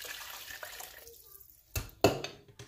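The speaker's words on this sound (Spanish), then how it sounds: "lo que voy a hacer es agregarle las dos tazas de agua" Two quick splashes of water are poured from cups into a pot of vegetable soup in a quiet kitchen, close and fairly soft.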